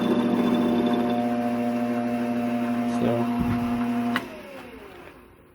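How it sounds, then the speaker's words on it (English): A metal lathe turning an interrupted cut with a high-speed steel cutter makes a loud, steady whirring hum with a buzzing tone that runs unbroken, then winds down abruptly near the end. "just using a high-speed steel cutter there"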